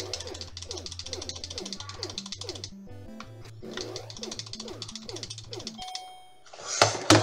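A chiptune bell and tune ending a round in an old video game: rapid repeating bleeps and rings, then a brief pause and a final burst of noise, all loud and close.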